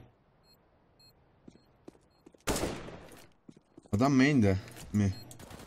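Gunfire in CS:GO rings out as a brief, sharp burst amid quiet game ambience, while players talk before and after it.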